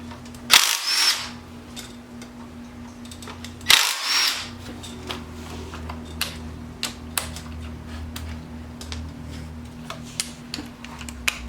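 A power tool works on the rear brake of a Honda Civic, with two loud, close bursts of whirring and rattling followed by lighter clicks and taps from handling the parts.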